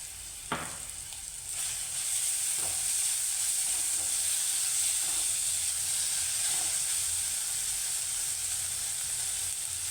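Onion with crushed ginger and garlic fries in a pan for a monsoon vegetable dish, a steady close sizzle and hiss with a few stirring clinks, no voices.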